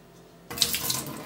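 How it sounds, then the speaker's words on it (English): Water from washed vegetables in a colander suddenly gushes into a sink at close range, a bright, steady splashing rush after a moment of quiet. "I can already hear it draining water out."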